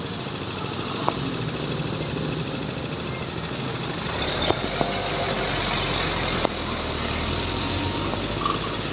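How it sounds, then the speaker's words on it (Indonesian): Truck engine in congested traffic on a road in Aceh, a loud steady diesel rumble and drone with a few sharp clicks and knocks over the top, continuous and close. "Kencang juga truk itu ya"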